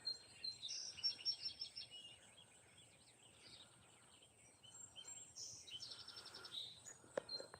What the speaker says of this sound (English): The birds are out already.